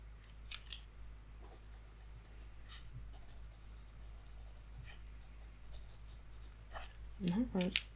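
Pencil scratching across paper in quiet, close strokes, with short bursts of scribbling and a soft voice murmuring near the end.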